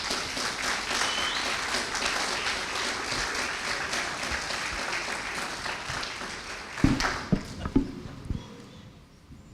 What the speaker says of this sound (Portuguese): Vamos aplaudir o Dequinho?